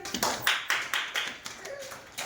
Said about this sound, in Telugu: ఓకే, క్లాప్స్ కొట్టండి